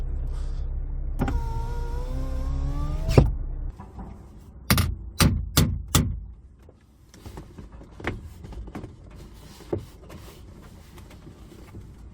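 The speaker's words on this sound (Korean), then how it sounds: "자, 창문 내리면" A Hyundai Avante HD's electric power window motor whirs steadily for a couple of seconds as it lowers and stops with a thump, followed by a few sharp clicks and quiet rustling.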